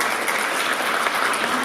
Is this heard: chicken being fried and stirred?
no